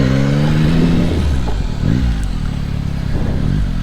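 Yamaha MT-09 three-cylinder motorcycle on its stock exhaust revving close by, a loud engine note rising and falling in a couple of throttle blips over a steady idle.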